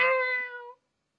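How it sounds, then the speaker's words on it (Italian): One clear, close cat meow, bright and drawn out, lasts under a second and then stops into silence. "I gatti miagolando."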